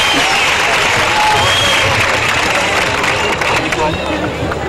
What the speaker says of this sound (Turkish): evet, alkışlar Atademir'e için